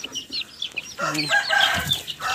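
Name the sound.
chicks chirping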